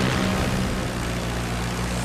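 Piston propeller engines of WWII fighter planes, American Hellcats and Japanese Zeros, roar in a loud, unbroken drone during a dogfight, briefly and close with no voices.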